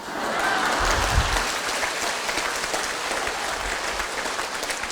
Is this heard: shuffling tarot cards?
no